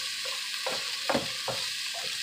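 Onions, garlic and spices fry steadily in a pan for chicken sotanghon, a soft continuous sizzle with a few brief stir scrapes, close and fairly quiet, with no talking.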